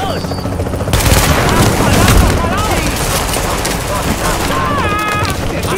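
Gunfire and explosive bursts from a firefight in the video game The Division, with a grenade blast among dense, continuous shooting, loud and close, while players talk over the action.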